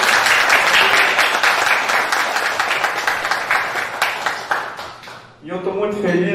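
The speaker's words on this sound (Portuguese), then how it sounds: "eu queria que todo mundo dá salve de palmas" A round of applause fills an extraordinary session of the Periquito city council chamber, loud and dense at first, thinning toward the end, then a voice starts talking.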